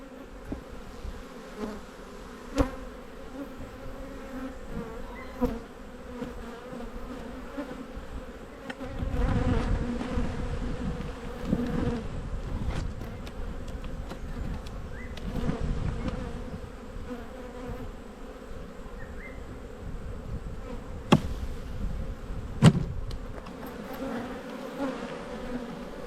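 Honey bees buzz steadily across a hive frame in an Australian backyard hive, a dense continuous drone with a few louder swells and brief sharp knocks as the frame is handled.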